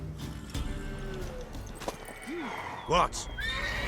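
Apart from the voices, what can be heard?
horse (mare) neighing in the video game The Witcher 3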